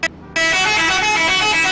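An Indonesian telolet bus horn blares in the GTA video game, one short toot, a brief gap, then a loud, sustained, bright multi-tone musical honk held to the end.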